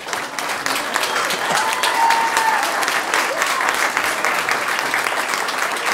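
An audience in council chambers breaks into sustained applause after a vote, dense steady clapping with a few voices and a faint whistle mixed in.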